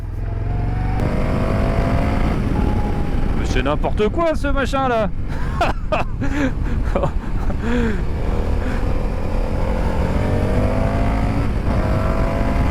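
Indian FTR Sport motorcycle with its stock exhaust, heard while riding: a steady, loud engine drone runs throughout, with someone talking over it midway.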